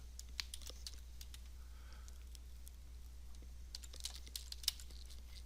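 Light, scattered keystrokes on a computer keyboard as a new C# script name is typed in Unity, quiet clicks spread irregularly over a steady low hum, with a denser burst of taps near the end.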